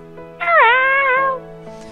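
A voice imitates a cat with a single drawn-out, wavering meow, loud and close, rising then falling in pitch and standing alone with quiet around it.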